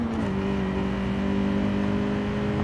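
Engine of a car in a driving video game revving steadily as it overtakes traffic, a smooth continuous droning hum with a slight rising pitch, moderately loud with no talk over it.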